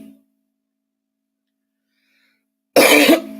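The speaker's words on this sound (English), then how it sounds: "Except for that cough." One abrupt, close cough follows near silence, a harsh throaty burst lasting under half a second with a faint tail after it.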